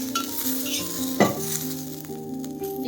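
Garlic cloves and green chillies fry in a spoonful of oil for a spicy tomato chutney, with a loud, steady close sizzle and occasional scrapes of a stirring spoon against the pan.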